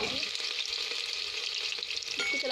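Onion and green chili frying in oil in a pan, a dense continuous sizzle close up, with the soft scrape of a spatula stirring now and then.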